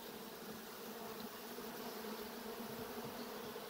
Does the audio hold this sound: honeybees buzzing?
yes